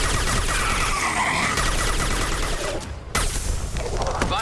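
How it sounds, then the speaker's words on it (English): Rapid weapon fire in the Mass Effect 2 Legendary Edition game, dense bursts of shots and booms crowding the mix, with a brief drop before loud firing resumes. "Firing a high impact shot."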